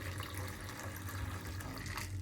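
Water poured into a wax paper liner inside a Cinderella Travel incinerating toilet in a skoolie, a steady continuous splashing and trickling close by, with no talking.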